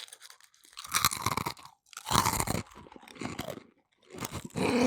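Close, loud crunching and chewing of a fortune cookie from takeout, bursts of brittle crackling bites followed by wetter chewing, repeated in four or five uneven clusters with no talking.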